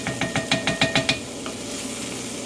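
Garlic sizzles as it heats in a pot for venison stew, with a quick series of about seven rhythmic stirring scrapes over a steady close hiss that continues alone afterward.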